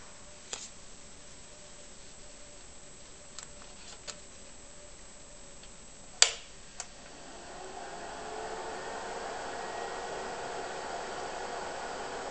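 A Miniscribe MFM 20MB hard drive spindle motor with a startup fault tries to spin up. A few faint clicks and one sharp tick come first, then a soft, steady whirring hiss rises and holds, quiet and close.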